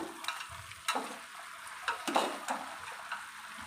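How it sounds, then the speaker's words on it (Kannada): Chicken fries in a pan for chicken sambar, giving a soft low sizzle broken by a few sharp stirring clatters and scrapes, close by with no talking. "ಈ ಥರ ಚೆನ್ನಾಗಿ ಫ್ರೈ ಆಗಬೇಕು"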